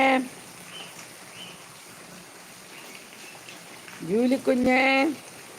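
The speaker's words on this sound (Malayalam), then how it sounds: "രാവിലെ തന്നെ മഴ പെയ്തുകൊണ്ട് എല്ലാ കിളികളും നനഞ്ഞു" Morning rain falling steadily as a soft continuous hiss, with a voice briefly speaking near the end over it.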